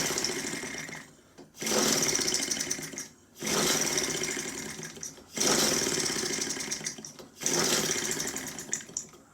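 A Stirlingkit N12b model engine is cranked over without firing: four loud, buzzy bursts of about two seconds each, separated by short pauses, close to the microphone.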